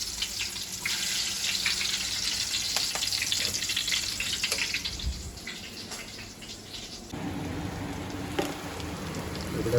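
Egg bhurji fries in a pan, a dense, steady hiss of sizzling that runs for several seconds, softens briefly, then returns with a lower, fuller frying texture.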